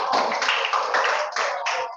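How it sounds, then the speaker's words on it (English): A group of students applauds a classmate in a classroom, steady dense clapping sustained for about two seconds with slight swells, fairly loud and without talk. "Clap for her,"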